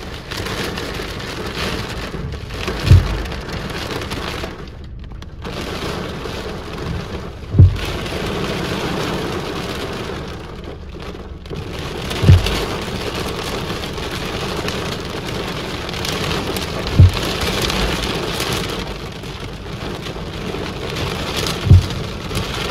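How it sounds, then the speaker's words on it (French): Heavy rain falls steadily outdoors near a parked car, a dense continuous wash with gusts of wind, punctuated by about five regularly spaced low thumps. "Ah ça y est, on a le retour de la pluie."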